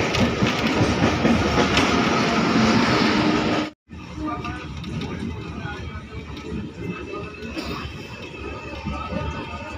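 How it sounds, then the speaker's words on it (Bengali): The Kulik Express passenger train rumbles into a junction station, heard from inside a vistadome coach with a loud, continuous rattle of wheels and carriages and a brief dropout partway through. "আমাদের ট্রেন এখন প্রবেশ করছে খাড়া জংশন স্টেশনে, আর এই দিকে যে ট্রেনটা আসছে সেটা আসছে রামপুরহাট থেকে"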